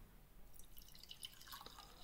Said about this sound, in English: and pour gasoline inside the sensor